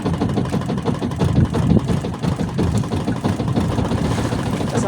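A boat engine idling nearby, a continuous low rumbling drone with a slightly uneven, knocking pulse running steadily without pause.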